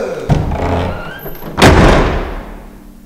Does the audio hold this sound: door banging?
yes